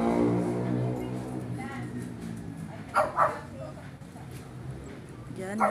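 Two pet dogs give a few short yips and barks, mostly around the middle, over a steady background of a person talking nearby.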